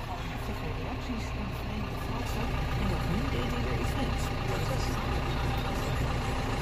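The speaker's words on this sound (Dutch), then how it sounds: "ik zit in de trekker met de kiepwagen" A tractor engine runs steadily with a tipping trailer hitched, recorded from inside the cab on a farm during onion harvesting, a continuous loud low rumble throughout.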